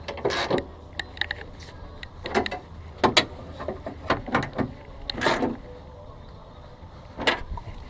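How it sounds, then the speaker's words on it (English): Wrench turning bolts on a third-generation Toyota 4Runner window track inside the door, with irregular metallic clicks and ratcheting clanks spaced out at close range. "Wrench."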